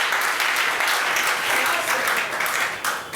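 A church congregation applauds for the Lord during a Friday worship service, steady dense clapping and cheering filling the whole stretch at close range with no pause.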